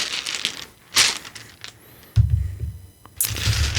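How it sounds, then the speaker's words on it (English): Story cubes dice rattle and tumble onto a surface in short clattering bursts, several sharp clicks and knocks spread across a few seconds, close and fairly loud, with no speech. "So we'll roll on our story cubes to see what we get."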